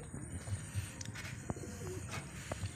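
Pigeons in a loft give soft, low coos that repeat every fraction of a second against steady background noise, with a few faint chirps and clicks.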